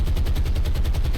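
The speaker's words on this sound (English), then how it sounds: "They're going to come in once again to strafe." Loud, rapid machine-gun fire from an aircraft strafing a ship in the naval video game War on the Sea, a fast, steady stream of shots filling the moment, with no talking.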